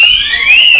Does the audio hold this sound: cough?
no